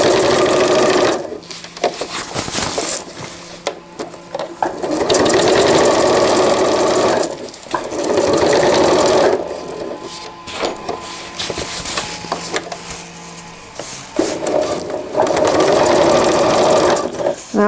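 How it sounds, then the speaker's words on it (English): A sewing machine stitches elastic casing on a cloth diaper cover, running in several long, steady bursts with short pauses between, ending with a brief reverse stitch to lock the seam; close and fairly loud, with no talk. "always like to do a reverse stitch when I finish, just to really lock it in place."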